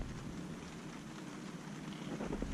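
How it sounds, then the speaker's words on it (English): Steady rain falling outdoors on a house-building site in the Philippines, a continuous broadband hiss with gusty low rumble, growing slightly heavier toward the end. "it's starting to rain, and it's raining right at lunchtime"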